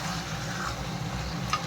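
Chicken and potatoes being sautéed down (kosha) in a pan give a steady, even sizzle close by, with no talk and one faint scrape near the end.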